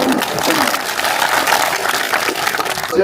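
Clapping from a crowd at an outdoor election courtyard meeting with an indigenous community, a steady, dense patter lasting throughout with voices mixed in.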